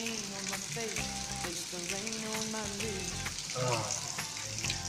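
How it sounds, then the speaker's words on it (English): Rain pours heavily outside a house as a constant sizzling hiss of water, with a voice singing and speaking over it. "It's pouring pretty heavy."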